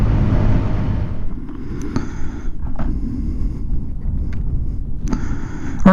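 Motorcycle riding along a city block, either a Benelli TNT 135 or a Honda Grom 125, its steady engine drone close and continuous over wind buffeting, easing off near the end.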